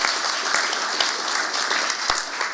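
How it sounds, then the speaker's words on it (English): Steady applause from an audience at a Georgia Department of Veterans Service event, dense clapping that holds at an even level throughout with no voices over it. "So I just wanted to give y'all a big round of applause"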